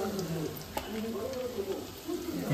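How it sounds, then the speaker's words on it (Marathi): Malvani masala with turmeric and garam masala powder sizzling in a hot oil tempering for a seafish mutton curry, a close frying hiss with a brief clink, while a voice speaks faintly underneath. "फोडणीमध्ये आता आम्ही मसाला टाकलेलो आहे."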